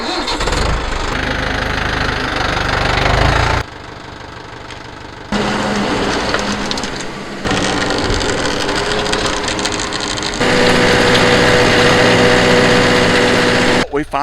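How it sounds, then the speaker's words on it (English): A garden tiller's small engine runs loud and close with a rough, steady chug, cutting out and coming back in several stretches before running harder near the end. "So I'm going to get this tiller rolling."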